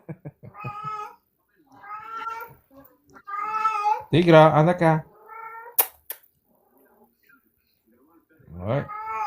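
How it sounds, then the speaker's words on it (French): A cat meows nearby during a casual French conversation on a live stream, with one drawn-out harmonic cry mid-way and a shorter rising meow near the end, both between stretches of talk. "Hey, la lame, t'as pas un chat?"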